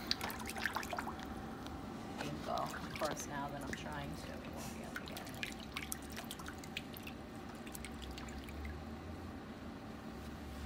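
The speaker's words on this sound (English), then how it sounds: "I'm gonna try to splash this around." Water is splashed around an ankle underwater, giving soft, irregular dripping and sloshing sounds beneath a person talking close by.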